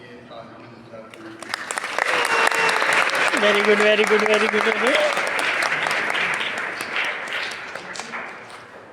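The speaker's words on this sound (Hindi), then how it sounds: "हम उनकी हौसला अफजाई के लिए तालियां बजाते" A congregation claps in St Anthony's parish church during a Bible study gathering; sustained applause swells after a couple of seconds and fades slowly, with a voice speaking over it.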